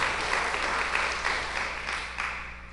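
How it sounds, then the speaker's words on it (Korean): A church congregation applauds after a missionary's testimony, a dense, steady patter of many hands clapping in a large room, moderately loud and sustained, trailing off slightly at the end with no speech. "하나님께 영광의 박수 드리겠습니다"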